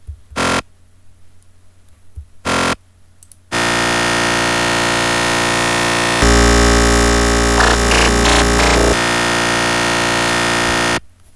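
A harsh, buzzing raw psytrance lead synthesizer tone with no effects plays after two short blips, holding steady, then thickening into a louder, grating layered chord before cutting out.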